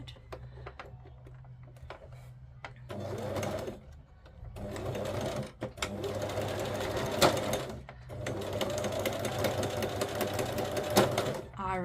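A sewing machine runs a very wide stitch on scrap material, its needle chattering in rapid bursts that stop and restart, with brief pauses between runs and close, fairly loud mechanical clatter.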